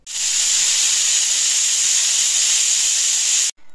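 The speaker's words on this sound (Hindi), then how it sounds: "तो कुकर में सीटी आ गई है" Steam shrieks from a home kitchen pressure cooker whistle, one loud, steady high hiss lasting a few seconds before stopping abruptly.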